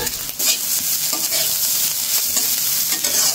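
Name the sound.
fish being stir-fried in a pan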